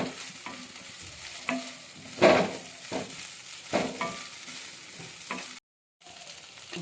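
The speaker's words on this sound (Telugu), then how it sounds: "ఇప్పుడు ఈ ఇలాచి పౌడర్ వేసేసి కలిపేద్దాం." Sweet flattened rice with coconut and cardamom powder stirred in a pan, repeated scraping strokes of a spoon against the metal with light sizzling, close and steady, with a brief silent gap near the end.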